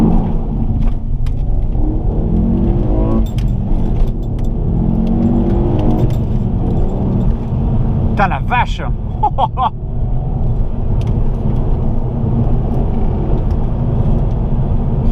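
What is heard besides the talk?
Ford Focus ST 2007 engine and exhaust while driving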